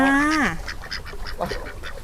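At a farm cafe in Chonburi, a duck gives one loud, drawn-out quack up close, followed by softer, scattered quacks and bird calls.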